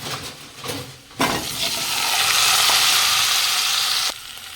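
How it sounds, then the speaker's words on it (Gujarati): A drumstick and potato curry fries in spiced oil as a spoon scrapes and stirs the pan, building into a loud, steady sizzle in the middle before cutting back to quieter stirring sounds. "શાકને ચલાવો થોડું મિક્સ કરી લઈશું બધું થોડી વાર તે તેલમાં આપણે ચડવા દઈશું"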